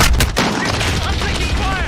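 Rapid bursts of automatic gunfire crackle loud and close in a team deathmatch video game firefight, dense overlapping shots with no pause, lasting under two seconds.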